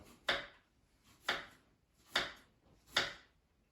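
A sharp knife slices through fresh mozzarella four times in a steady rhythm, each close, crisp cut landing on a board with a soft thud, about a second apart.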